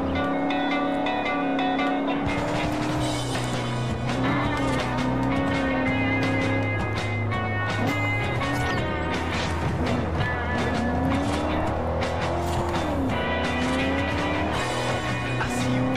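Cars drift and skid through a Forza Horizon race, engines roaring continuously with sustained tire squeal rising and falling across the stretch, loud and dense with no talking.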